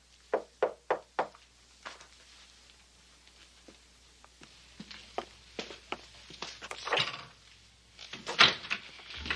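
Four quick, loud knocks rap on a wooden door, followed by footsteps, shuffling and a door being opened, with indistinct movement building toward the end.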